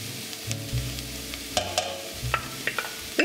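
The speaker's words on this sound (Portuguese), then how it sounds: "Agora nós vamos pôr o molho de tomate." Tomato sauce goes into an empadinha filling in a pan, giving soft stirring scrapes and a light sizzle with a few sharp clinks of a utensil, close and fairly quiet, with no voices.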